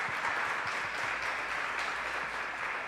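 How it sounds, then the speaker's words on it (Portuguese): A church audience at a children's ministry training gives steady, dense applause, a continuous wash of clapping that holds evenly from start to finish. "Vamos dar uma salva de palmas"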